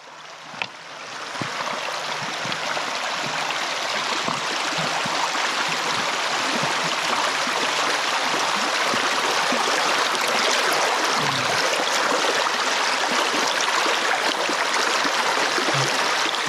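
A creek flows steadily beside a bicycle campsite on Vancouver Island, a broad, close, constant rushing and gurgling of water that holds an even level throughout, with a few faint knocks and no voices.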